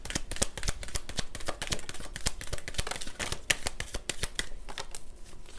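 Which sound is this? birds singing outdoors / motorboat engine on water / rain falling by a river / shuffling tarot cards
shuffling tarot cards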